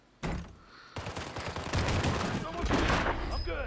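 Gunfire in a Call of Duty match, a dense burst of overlapping shots from a shotgun and other weapons, loud and close, running for several seconds with no one talking.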